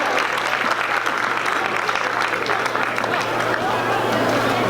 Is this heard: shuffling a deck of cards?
no